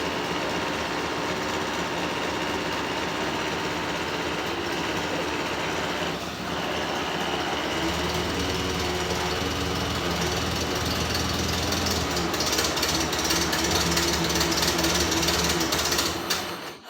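A Model A car engine idles steadily for a long stretch with a continuous rough, rattling chug, its low thump growing more prominent partway through before cutting off abruptly at the end as the fuel runs out.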